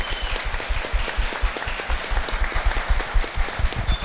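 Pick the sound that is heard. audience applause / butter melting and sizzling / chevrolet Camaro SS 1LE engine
audience applause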